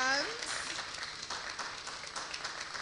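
A church congregation at a Sunday service in London applauds a couple's wedding anniversary. The clapping is dense and sustained, there is a brief cheer or whoop at the start, and voices mix in under it.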